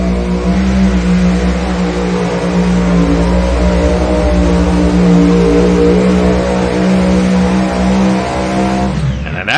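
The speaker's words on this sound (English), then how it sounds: "And an excellent run with a 3-engine tractor there, Tommy Owens." A three-engine pulling tractor roars through a run at a truck and tractor pull, a loud, continuous, harmonic-rich engine drone that holds steady for nearly ten seconds before cutting off abruptly at the end.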